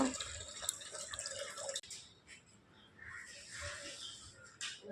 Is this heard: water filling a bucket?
yes